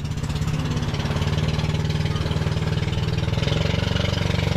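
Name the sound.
big boat's single engine running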